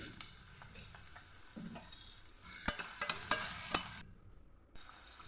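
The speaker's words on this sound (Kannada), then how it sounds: "ಸ್ವಲ್ಪ ಹುರಿಯುವ ಕಟ್ ಮಾಡಿಟ್ಟ ಈರುಳ್ಳಿ ಹಾಕಿ ಗುಲಾಬಿ ಬಣ್ಣ ಪಿಂಕ್ ಬಣ್ಣ ಬರುವವರಿಗೆ ಇದನ್ನು ಹುರಿದ್ರೆ ಸಾಕಾಗ್ತದೆ" Chopped onions fry and are stirred in a pan, a soft steady sizzle under repeated light scrapes and clicks of the spoon, with a short quiet dropout near the end and no voices.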